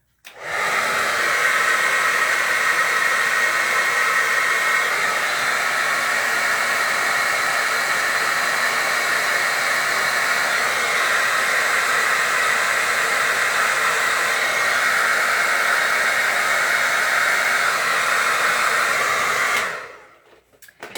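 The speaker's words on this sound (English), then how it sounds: "So I'm going to take my blow dryer and put it on a cool setting, and then I'm going to dry." A handheld blow dryer runs on its cool setting as a loud, steady whooshing hum that holds close and constant for about twenty seconds before cutting off at the end.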